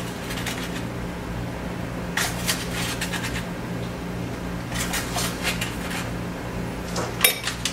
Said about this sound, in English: And then we're just going to stir it into our sugar